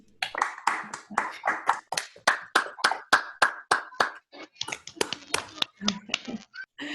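A single person clapping steadily near a microphone during an online math conference session, roughly twenty rhythmic claps followed by irregular taps and a brief voice.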